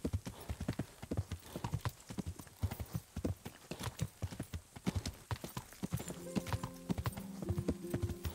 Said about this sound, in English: I hate angry horses.